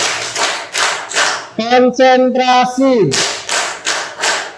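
Students in a classroom clap their hands in unison, four sharp, evenly spaced claps, then a voice speaks, followed by another four claps.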